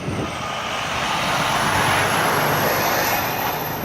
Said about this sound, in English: which that truck passed by